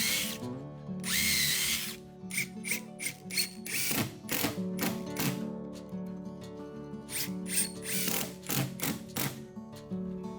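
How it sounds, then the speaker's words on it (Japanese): A power driver sets screws into structural plywood over a kiln-dried sill for floor decking, firing in a string of short, close, whirring bursts separated by brief pauses. "それをビスで留めてね、"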